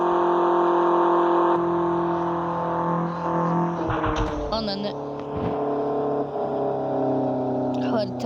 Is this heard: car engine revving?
yes